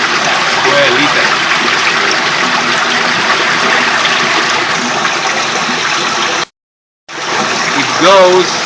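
Clean excess water flows through holes into a 1,000-liter reservoir after sedimentation, making a steady, loud rushing gush that runs continuously, breaks off briefly near the end, then resumes.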